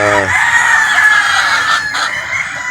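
Game-farm roosters crow loudly and close, a long harmonic crow carrying over clucking brood hens, with steady flock noise throughout and no talk.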